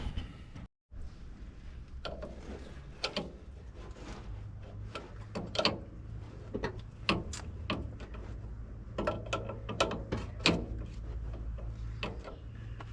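Shock absorber bolts on a Mitsubishi L200 are worked loose with a tool, giving irregular metallic clicks and knocks over a steady low hum, fairly close and moderately loud.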